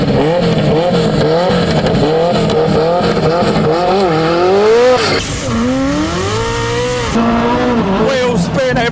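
A Ferrari F40 roars off the line in a drag race, engine revving hard through the gears with tyre squeal and wheelspin, loud and close, while people talk underneath.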